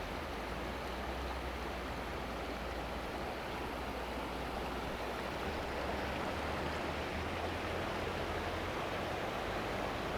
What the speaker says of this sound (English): I suspect it's one of the forks, East Fork or West Fork of Hyalite Creek.